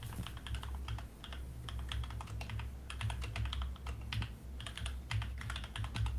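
Rapid typing on a mechanical keyboard, close and crisp, with bursts of clicky keystrokes separated by short pauses.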